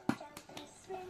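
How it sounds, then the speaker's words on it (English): Young child clapping at home, three quick soft hand claps in the first half, close and quiet, with faint household shuffling around them. "Give yourself a clap."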